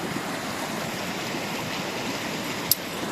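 A river stream flows steadily at a farmstay, a continuous broad rushing wash of water at moderate level, with a single short click near the end.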